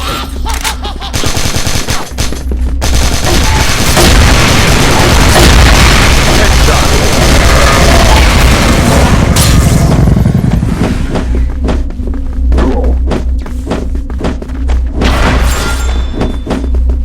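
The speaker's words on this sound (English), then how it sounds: "Flash grenade." In the Crossfire Philippines online shooter game, a flash grenade explosion bursts amid dense, loud gunfire and heavy booms, part of a continuous barrage of thuds and rapid shots lasting many seconds, with voices now and then.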